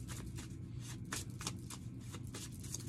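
Tarot cards are handled and shuffled in quiet, repeated soft riffles and slides.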